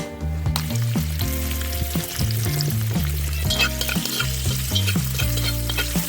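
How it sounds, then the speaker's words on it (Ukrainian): Finely chopped lard renders, sizzling and crackling steadily in a hot pan for bograch stew, close and loud, with occasional scraping and stirring knocks over the constant frying hiss. "Чуєте, шкварчить"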